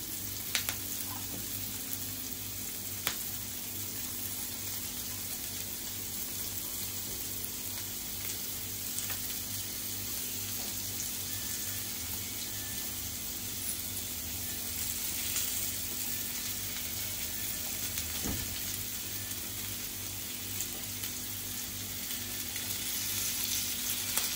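Sliced okra fries in a few spoons of oil on a tawa over medium heat, giving a steady soft sizzle that runs continuously and fairly quietly with a faint background hum and no talking.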